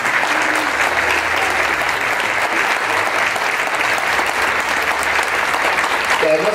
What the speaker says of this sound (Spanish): y además fuerte ese aplauso, porque se lo merece